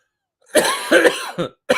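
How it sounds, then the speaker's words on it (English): A close, harsh cough in a few bursts, a throaty hacking fit followed by one more short cough after a brief pause. "Still got this nagging cough."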